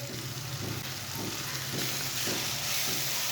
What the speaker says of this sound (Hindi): और सब मसालों को ना 1 मिनट तक भून लेंगे।